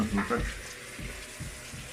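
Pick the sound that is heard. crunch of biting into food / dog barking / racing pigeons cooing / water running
water running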